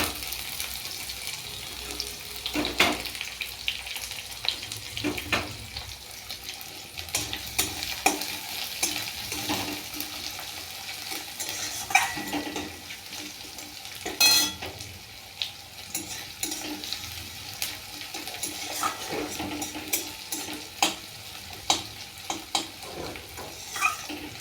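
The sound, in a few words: chopped onions frying and being stirred in a pan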